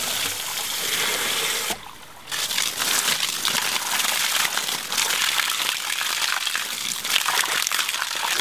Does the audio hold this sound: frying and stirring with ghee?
no